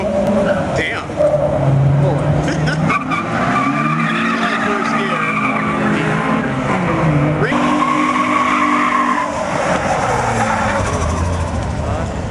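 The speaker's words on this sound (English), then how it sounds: "I hear a lot of turbo." Turbocharged Ford Ranger racing alongside a Civic, engines roaring loud and continuous with tire squeal and high turbo whistle, while people talk over the noise.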